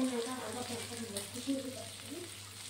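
Prawns fry in a pan with a soft, continuous sizzle and crackle, fairly quiet, while a voice speaks faintly over it.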